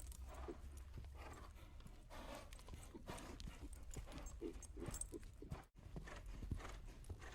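A horse walking at a brisk pace, its hooves clip-clopping in a steady rhythm at low level, with faint background noise and a brief dropout near the end.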